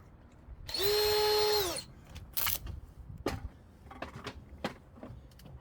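A power drill boring holes while a Doordrobe is installed near a window: one loud whining burst of about a second, then scattered clunks and knocks of the hardware being fitted, close by.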